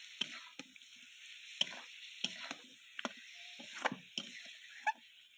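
Meat and cabbage fry in a pan with cumin powder, a steady bright sizzle running throughout, broken by sharp intermittent clicks and scrapes of a spoon stirring against the pan.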